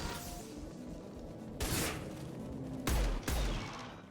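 Pistol and gunfire in the video game Mass Effect 2: a few sharp, loud bursts of shots separated by quieter stretches of ambient game sound, with no talk.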